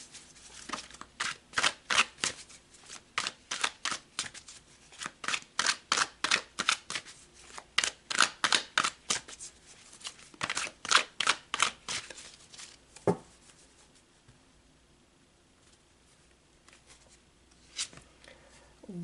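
Tarot cards shuffled in rapid rhythmic bursts of crisp riffling and snapping, repeated many times over several seconds, then a softer handling pause and a final tap, close and clear with no talking.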